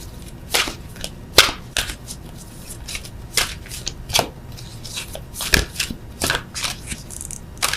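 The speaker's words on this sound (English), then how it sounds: "I'm going to just pull one of these beastly cards" A deck of tarot cards being shuffled close up, with repeated crisp riffling snaps and soft slides in an uneven rhythm, loud and clear with no talking over it.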